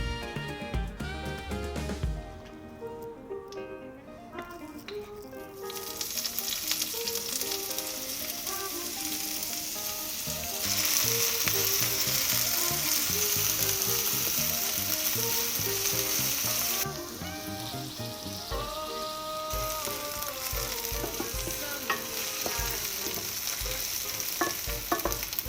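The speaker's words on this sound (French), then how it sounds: "On va commencer par faire revenir les oignons dans un peu d'huile." Onions frying in a little oil for a Réunion-style shrimp curry give off a steady sizzling hiss that swells in the middle, heard under continuous background music.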